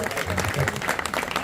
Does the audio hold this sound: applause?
yes